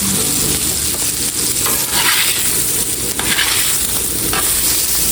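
Wagyu burgers frying in a hot pan of grease give off a loud, steady sizzle with crackling spatters, the hiss holding unbroken throughout.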